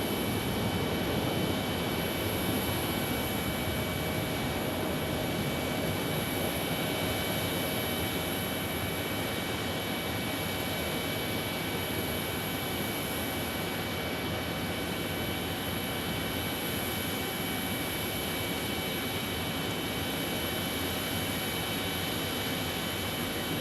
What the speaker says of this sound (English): Another 737 MAX 8 coming in from Reno.